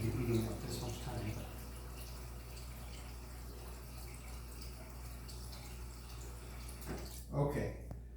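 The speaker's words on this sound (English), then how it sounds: "It takes a while to fill up, but fill it up to the brim" Water from a tap runs steadily into a pet's water dish at home, filling it to the brim with a continuous soft rushing. There is a brief louder splash near the end.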